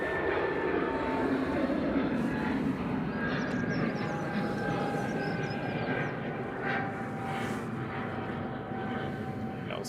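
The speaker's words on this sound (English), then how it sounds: "That was KLM that went past in the distance behind." A KLM Airbus A320neo passes in the distance at Manchester Airport, a steady, faint jet rumble with a thin engine whine that holds throughout and fades slightly near the end, with no voices.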